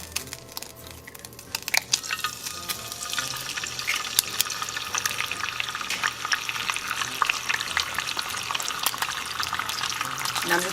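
An egg dropped into hot oil in a pan with salt sprinkled on the bottom fries with a steady crackling sizzle, full of close popping spatters over about ten seconds, with no talking.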